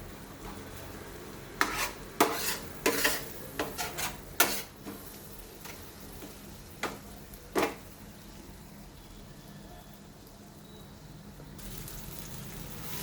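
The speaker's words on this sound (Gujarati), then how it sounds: "ધીરા તાપે આપણે ડુંગળીને સાંતળીશું, કારણ કે તવા ઉપર છે એટલે બધી બાજુથી ફ્રાય થાય છે." Onions sautéing on a tava over a low flame give a soft, steady sizzle, broken by a burst of clinking stirring strokes early on before settling back to a quiet simmer.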